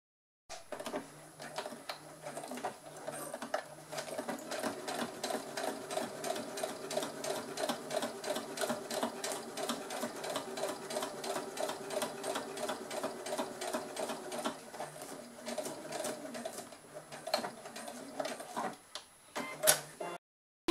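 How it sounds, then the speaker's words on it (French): A domestic sewing machine stitches a straight seam along the folds of a large tote bag, its needle hammering in a fast, even rattle for most of the run before slowing and stopping with a few final clicks. "je vais coudre à ras le bourrelet jusqu'aux 5 cm"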